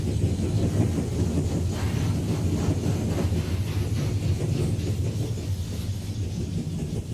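A Union Pacific SD40 diesel locomotive, a former Missouri Pacific unit, rolls past with its train at Vickers, making a steady, fairly loud rumbling and rattling roar that holds evenly throughout.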